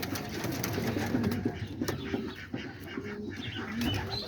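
Homing pigeons coo softly and repeatedly in a loft at feeding time, their low rolling calls layered with faint rustling and occasional wing flutters, with no talk.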